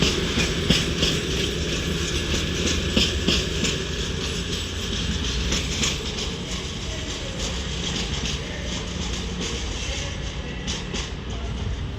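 A train pulls out of Crewe station on the West Coast Main Line, a steady rumbling roar of engine and rolling wagons with faint clicking over the rails, close and sustained throughout.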